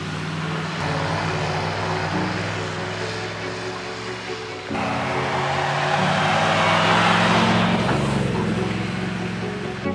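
A rescue vehicle with deflated tires drives into a snowy forest, its engine droning steadily with road rumble throughout, growing slightly louder midway, with faint talk underneath.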